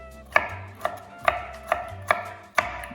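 A knife slices through leftover cauliflower on a board for a gratin, six crisp, evenly spaced cuts landing about every half second, close and clear with no talking.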